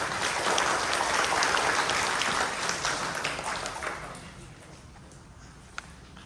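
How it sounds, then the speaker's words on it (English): Audience applause welcoming a guest speaker at a Buddhist Obon family service in Fresno, a full burst of clapping that swells, holds for several seconds, then dies away to quiet room tone with a single late clap. "So please applause and welcome Reverend Briones."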